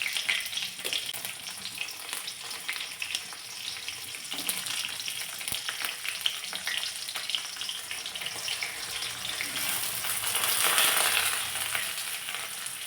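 Garlic and green chilies frying in a mustard-cumin tempering, a bright continuous crackling sizzle with scattered pops that swells louder toward the end, no speech.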